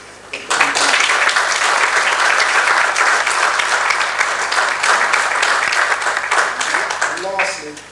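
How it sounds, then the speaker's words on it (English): Audience applause at a Black History Month launch event in Luton, a dense burst of clapping that starts abruptly, holds steady for several seconds and then tapers off, close and loud. "they should be given a big round of applause"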